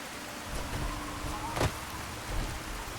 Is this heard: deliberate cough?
no